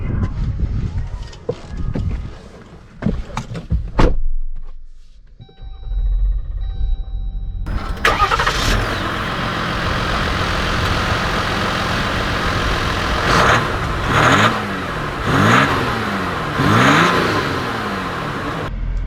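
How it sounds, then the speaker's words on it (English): A 2020 Jeep Wrangler EcoDiesel starts with a few clicks and chimes, then a diesel engine catches and settles into a steady idle before revving and pulling away in a series of rising surges. "Let's take this Wrangler Eco-Diesel out and see how it drives."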